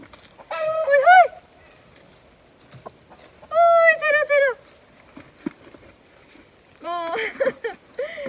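Backyard hens cackle loudly in three separate bursts of harsh, stacked squawks, with quieter gaps between them and a faint voice in the background.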